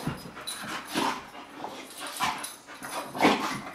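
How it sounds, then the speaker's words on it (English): A dog whines and whimpers in a series of high, plaintive cries at irregular intervals, close by and moderately loud, with brief pauses between each cry and no voices. "You hear this whining?"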